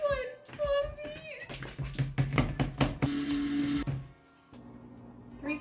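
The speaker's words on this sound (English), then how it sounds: "So I'm supposed to add the butter and beat it with a mixer." Electric mixer beating butter and sugar for macarons, a steady motor whir with rattling clatter in the bowl that starts and stops, mixed with people talking nearby.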